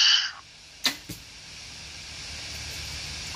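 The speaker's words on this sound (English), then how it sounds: "I shot 2 arrows and I crunch them" Arrows shot from a bow, with a brief whooshing hiss at the start followed by two sharp close impacts, then a quiet steady background.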